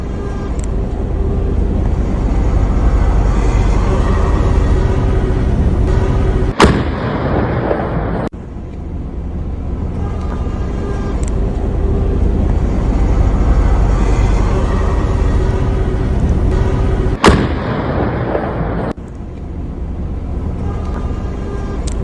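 Explosions from a massive Russian bombing attack on Ukraine: a constant heavy rumble broken by two sharp, loud blasts about ten seconds apart.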